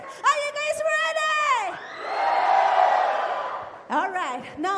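A concert crowd at a show in Nagaland screams and cheers in one swelling roar, rising and fading over a couple of seconds between loud amplified talk from the stage.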